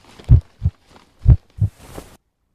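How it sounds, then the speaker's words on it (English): Heartbeat effect in a horror video game: two pairs of deep, thudding beats, loud and close, in a lub-dub rhythm, followed by a faint airy hiss. "Oh, it was a heart beating."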